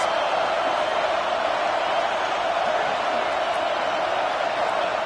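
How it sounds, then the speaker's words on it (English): A packed football stadium crowd roars in a steady, dense wall of noise while the home defense is on the field. "Listen to this crowd just shaking the girders of this place, trying to help their defense."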